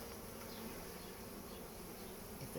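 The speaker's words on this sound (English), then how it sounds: "So I would say now we're annoying the bees for no reason." Honey bees from a swarm buzz steadily during a hive inspection, a dense, continuous droning hum close by that holds at an even level throughout.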